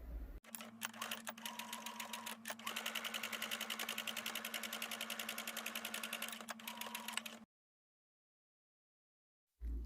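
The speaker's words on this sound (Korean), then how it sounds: "탑이랑 크라운이랑 연결하는데 크라운을 위쪽에 놓고 박음질 하시겠습니다." A sewing machine runs steadily and close for about seven seconds, stitching a hat crown to its top panel with a rapid, even mechanical chatter, then stops into silence.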